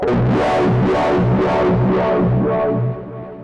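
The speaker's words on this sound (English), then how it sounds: "if we put the filter before the distortion" An Endorphin.es Ghost pedal, its filter placed before the distortion, gives a loud, thick distorted tone whose resonant filter sweeps rise and fall in repeating waves before the sound drops off near the end.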